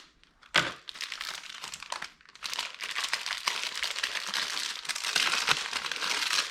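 Crinkly plastic packaging around a new bicycle chain for a gravel bike is handled up close, giving bursts of rustling and crumpling with a sharp crackle near the start, continuing in dense waves without speech.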